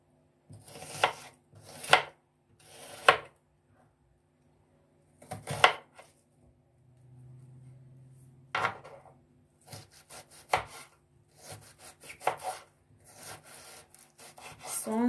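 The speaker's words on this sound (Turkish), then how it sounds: "Şimdi ince ince doğrayacağım." Knife chopping an onion finely on a board, brisk sharp taps in short bursts separated by pauses, fairly close and moderately quiet, with no talking.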